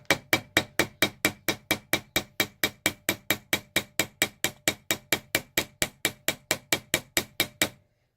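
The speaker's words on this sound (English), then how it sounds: "we use the flat part of our ball peen hammer like that, and we're going to take it on top of here and just hammer this down." A ball peen hammer strikes a copper rivet with its flat face, about thirty evenly spaced sharp metallic taps at a steady rhythm, close and clear, with no talking, stopping abruptly near the end.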